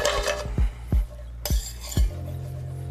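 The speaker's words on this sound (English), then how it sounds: "I'm just gonna take it out of the pan." Seared tempeh is lifted out of a pan with a few distinct metallic scrapes and clinks of utensil against cookware, close by, over a low background hum.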